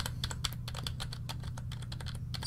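Rapid, crisp clacking of keys on a Redragon mechanical gaming keyboard, typed close up in an uneven, continuous burst.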